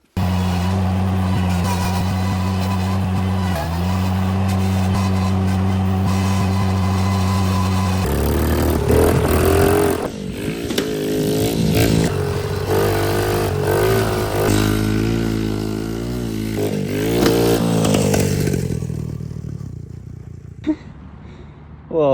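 A motorcycle engine idles steadily, then is revved repeatedly in loud, rising and falling bursts close by, settling back toward idle at the end.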